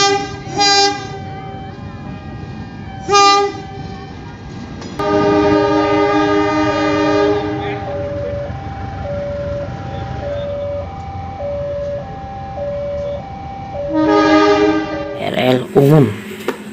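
A CC206 locomotive sounds its horn in repeated harmonic blasts, short toots, then a long sustained and wavering call and a final blast, over a steady rumble of the passing train.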